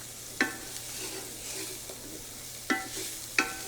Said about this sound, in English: Then we're going to add our garlic, our cranberries. I'm going to cook those